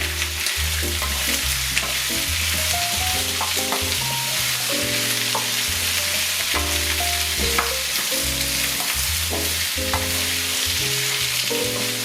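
Two coarsely chopped onions with parsnips browning in a pan, a constant loud sizzle running evenly throughout beneath a tonal musical layer, with no speech.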